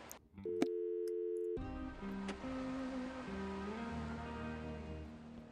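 Telephone busy signal in the Thimbleweed Park video game: a steady repeating tone that starts after a brief click and holds on, faint and clear with no talking over it.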